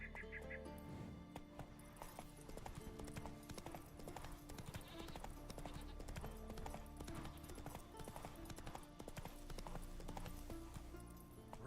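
Roach the horse gallops in The Witcher 3, a steady clip-clop of hooves running through the whole stretch beneath dense in-game music and ambience, with a brief shouted call near the start.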